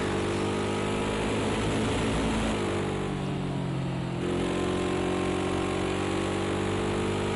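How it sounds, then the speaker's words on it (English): Ginetta GT3 race car engine in Project CARS 2 at Road America, a loud, buzzy, droning engine note that holds steady, dips in pitch briefly midway and then climbs back. "As the famous Ginetta with the lawnmower engine."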